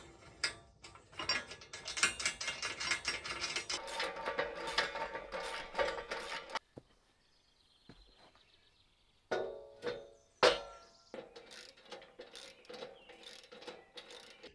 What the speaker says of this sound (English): I have an extension piece on my ratchet here, and then that's what I use